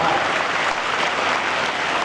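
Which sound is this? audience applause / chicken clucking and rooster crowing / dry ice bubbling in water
audience applause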